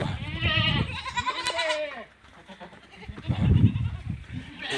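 Goats and young kids bleat in a shed before being let out to graze, several wavering cries close by, broken by a quieter pause, with rustling and shuffling.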